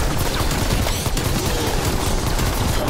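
Continuous loud, dense gunfire from pistols in a video game, a steady barrage of overlapping shots with no break across the whole stretch.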